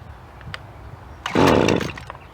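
A Jonsered GC2125 string trimmer, unused for over a year, has a couple of faint pull-start tugs, then its small two-stroke engine suddenly catches and roars loudly for about a second before dropping back.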